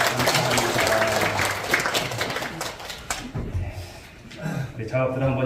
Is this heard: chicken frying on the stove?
no